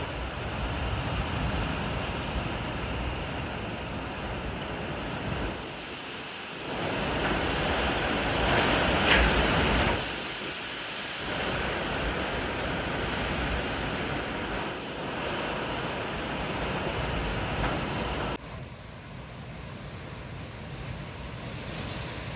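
Hurricane Milton storm outside: a continuous roar of wind and surf-like broadband noise, swelling louder in the middle gusts and easing slightly near the end, with no talking.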